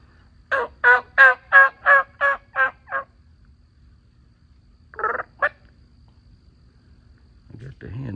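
Wild turkey hens call close by in a rapid run of about eight evenly spaced yelps, followed after a pause by two more short calls, over a quiet background, with a voice starting at the end.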